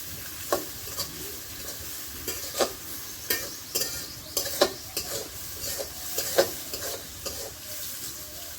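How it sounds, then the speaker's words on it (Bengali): Chopped onions frying in oil in a pan on a stove at the start of a desi chicken and potato bhuna: a steady sizzle broken by spatula stirs and scrapes about every second, close and moderately loud, with no talking. "তো পেঁয়াজটা আগে একটু ভেজে নেব।"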